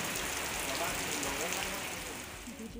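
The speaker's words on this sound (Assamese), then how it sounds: "আমাৰ ইফালে বৰষুণ ইমান বৰষুণ দি আছে" Heavy monsoon rain falling in Assam creates a dense, steady hiss that stays constant throughout, with a voice faintly present beneath it.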